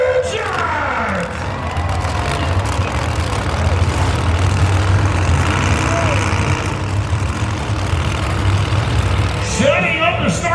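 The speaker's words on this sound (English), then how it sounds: "Racer, start your engine!" A monster truck engine rumbles loudly at a dirt-track throwdown in Salinas, California, a heavy low roar rising in revs over a steady crowd murmur, with an announcer speaking over it.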